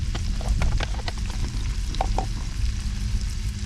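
Gilthead bream sizzles in a pan with Guernsey butter, a steady close frying crackle with a few brief clinks or stirring taps over it, no voices.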